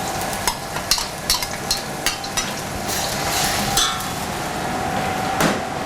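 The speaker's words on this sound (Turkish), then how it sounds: "Zeytinyağımıza iki baş orta boy soğanımızı attık." Two medium dry onions sizzle in olive oil under a continuous frying hiss, with repeated light taps and scrapes of a utensil stirring the pan in the foreground.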